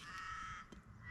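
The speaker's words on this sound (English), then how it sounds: "Can you hear the crows in the background?" Crows cawing beside a passive solar SIP house under construction, a few harsh calls spread through the clip, steady and moderately close against outdoor background noise.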